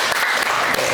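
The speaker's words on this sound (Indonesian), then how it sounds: "tepuk tangan dulu temannya" A classroom of students claps for a classmate, brief, dense and loud applause filling the whole moment.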